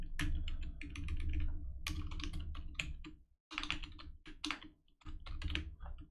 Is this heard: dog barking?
no